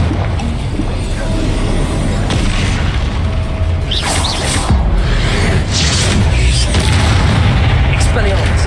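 Confringo blasting-spell explosions in the Hogwarts Legacy video game, loud booming bursts over a dense, roaring combat bed, with a voice heard amid the din.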